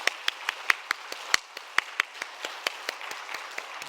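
Applause rings out at a Wednesday evening church service, a thin scattering of individual claps in uneven rhythm, fairly close and moderate in level, with no talk over it.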